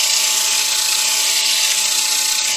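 A high, steady whine of a power sander running continuously against the outside of a turned wooden bowl, loud and close, without pauses.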